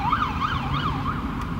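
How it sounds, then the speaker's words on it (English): Ambulance or police car siren passing nearby, a loud wailing tone rising and falling in quick regular sweeps over a low rumble of road traffic, with no talking. "We gonna wait till this ambulance or cop does its thing."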